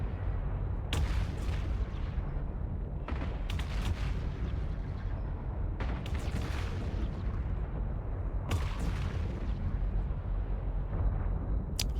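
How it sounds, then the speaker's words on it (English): Repeated energy-turret blasts in a video game, a broadband boom landing every couple of seconds over a steady low rumble, loud and close with no voices. "Are those energy turrets it's shooting?"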